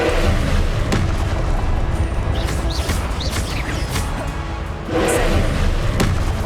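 Repeated booming blasts from the Confringo explosion spell in the video game Hogwarts Legacy, loud and dense, layered over constant game noise with sharp transient cracks and whooshing streaks scattered throughout.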